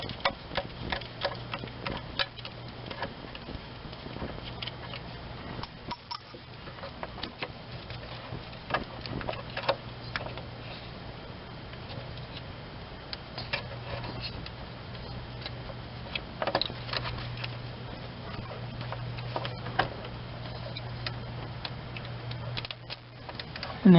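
A 1/4 inch drive ratchet loosening the 12 mm B+ nut on the starter of a 2.4L Hyundai Sonata, giving rapid, fine repeated clicking that runs on and off in bursts, close and fairly quiet, with no talking.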